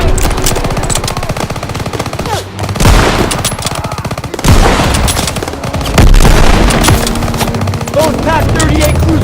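Rapid rifle gunfire and heavy booms in Call of Duty WWII on the Operation Cobra level, with a sniper rifle in use. The shots crack close and loud, with game voices heard in between.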